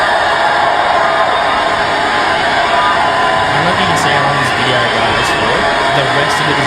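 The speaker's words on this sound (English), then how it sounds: "The rest of it is a standing ovation. They cheer for this long, bro." A talk-show studio audience gives a standing ovation, a loud, continuous wall of cheering, whoops and clapping, with shouts rising over the crowd and no break in the noise.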